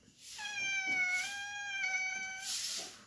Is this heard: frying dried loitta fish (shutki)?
no